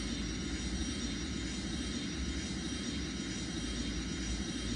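Airbus A310 airliner engines spool up for takeoff in the mobile flight game Airline Commander, a steady, loud, unbroken jet roar lasting the whole stretch with no talking.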